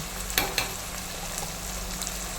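Ginger, garlic and curry leaf paste frying in a pan for a Kerala karimeen curry, with a steady low sizzle and two sharp clicks early on, close and moderately quiet.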